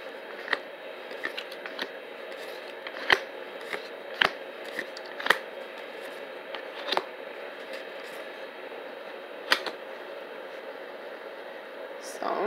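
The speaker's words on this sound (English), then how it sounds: "Something so satisfying about shuffling these cards for you." Tarot cards shuffled by hand up close, soft papery riffles and rustles broken by occasional sharp snaps and taps as the deck is handled, over a quiet hiss.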